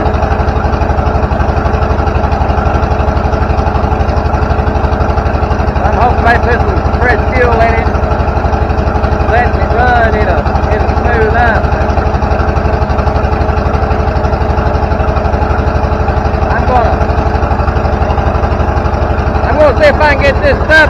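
An old Allis Chalmers D17 tractor running rough and smoking on old fuel idles loudly and steadily up close with an uneven, pulsing chug, while someone talks over it at intervals.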